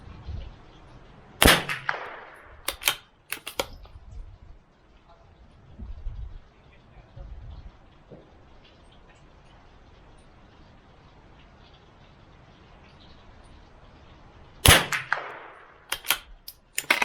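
Two pairs of sharp, cracking reports ring out from a CZ 457 MTR .22LR bolt-action target rifle firing Eley Match ammunition at a 50-yard range, each followed by quick metallic clicks. Quieter stretches in between hold low handling noise and distant birds.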